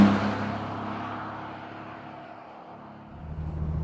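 A 2013 Bentley GT Speed Convertible driving fast on an open road, a steady loud engine and road roar that eases slightly before swelling again, heard without talk.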